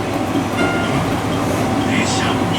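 One-car JR Shikoku train on the Dosan Line near Tsubojiri station, a steady rumble of the railcar with faint wheel clatter and a thin high squeal, heard from inside the car.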